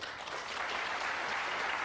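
Snooker crowd at the 2002 World Championship final applauding a safety shot, steady sustained clapping filling the hall throughout.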